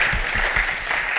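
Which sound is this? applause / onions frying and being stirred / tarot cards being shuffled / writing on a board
applause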